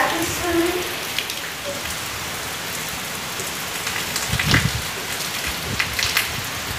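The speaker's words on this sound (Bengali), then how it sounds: "দারুণ বৃষ্টি এসছে" Heavy rain pours down steadily, a dense close hiss of drops striking the ground and surfaces in a courtyard, continuous and fairly loud throughout.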